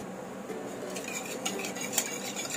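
Quick metallic clinks and scrapes of a whisk against a bowl of egg batter with pepper powder, a steady whisking rhythm with a few sharper taps, close and fairly quiet.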